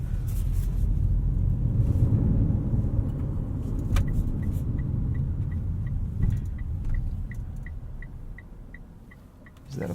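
A 2017 Mitsubishi Outlander Sport 2.4 SEL drives on the road, its steady low engine and road rumble heard from inside the cabin, with a turn signal ticking evenly in the second half.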